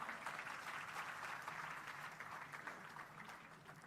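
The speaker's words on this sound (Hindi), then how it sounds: "एक बार ताली बजाइए असुर के नाम पर।" An audience claps together at a Hindi spiritual discourse. The applause is quiet and distant and holds at a steady level.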